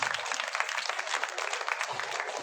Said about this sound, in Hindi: आप लोग तालियां